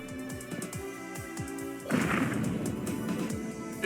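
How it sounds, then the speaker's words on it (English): Ammunition barrels blow up in the video game Wonder Labyrinth: a run of soft rhythmic thumps, then one heavier burst that rumbles on, with no talking. "Big explosions."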